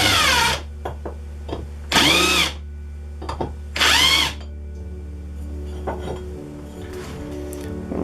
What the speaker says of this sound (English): countersink it just a little bit, and I'm actually going to do it by hand